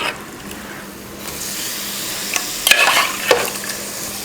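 Mutton being stirred into hot oil with chili powder and coriander powder for a Tamil mutton chukka fry sizzles loudly. Scraping stirring strokes come in uneven bursts, close up and with no talk.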